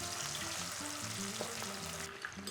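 Chicken wings of similar size deep fry in hot oil for Vietnamese crispy wings, a steady dense crackling sizzle running loud and close throughout with no talk.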